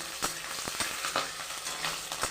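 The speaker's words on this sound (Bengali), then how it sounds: "একটু হালকা নেড়ে চেড়ে একটু ভেজে নেবো" Panch phoron, bay leaf and slit green chilies frying in a hot pan, a bright steady sizzle broken by a few quick spatula stirs, close up and without voices.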